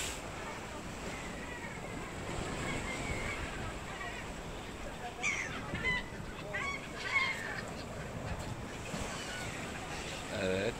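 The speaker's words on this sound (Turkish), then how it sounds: "bakın şu martılara bakmanızı istiyorum" Seagulls crowd and call along the seashore at Çınarcık, Yalova, as bread is tossed to them, their cries scattered over constant wind and waves while people talk nearby.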